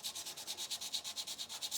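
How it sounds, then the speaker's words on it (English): Steady rhythmic scraping of 400 grit sandpaper rubbed back and forth on electric guitar frets, close and fairly quiet, in even strokes with no talking. "this is basically the final bit of sanding that I do on the actual frets"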